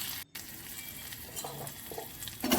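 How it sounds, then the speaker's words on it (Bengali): Turmeric stirred into a little hot oil for a vegetarian curry sizzles softly up close, broken by a brief dropout near the start and a brighter scrape at the end. "একটু তেলের মধ্যে হলুদটা নেড়ে নিলাম"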